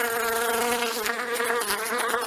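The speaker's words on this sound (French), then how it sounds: "J'ai trouvé des échantillons sonores de mouches domestiques" A housefly buzzes steadily and close up in a short recorded sample, a continuous droning whine with slight wavering in pitch and no other sounds.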